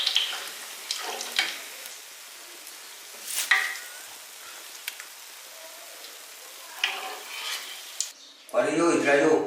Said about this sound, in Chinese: 把小葱炸成这样的状态都